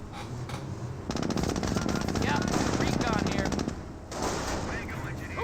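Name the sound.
Jeep .30 cal machine gun firing, Company of Heroes video game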